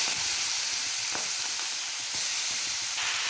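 Ash gourd pieces drop into a hot pan with oil and spices and fry in a loud, steady sizzle, close up, with a few faint clinks of stirring under the hiss.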